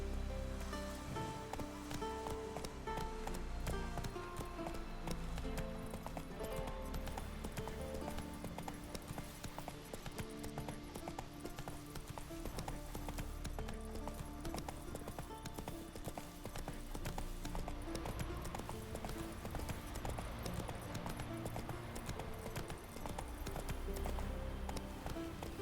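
Horse hooves galloping in The Witcher 3 video game, a steady loud clip-clop rhythm running throughout over a dense musical game soundtrack, with no talking.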